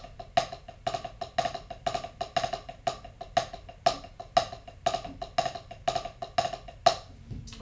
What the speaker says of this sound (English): we're going to take the diddle and we're going to put the diddle on the first beat